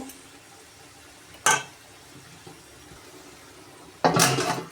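A lid set onto a pot of goat meat cooking with sour yogurt over medium heat, giving two sharp metallic clatters a few seconds apart over a low, steady background hum, close by, no talk.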